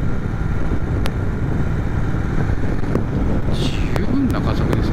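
A Triumph Thruxton 1200RS cafe racer motorcycle accelerating on a road, its engine drone steady and loud beneath heavy wind rush, with a rider talking over it.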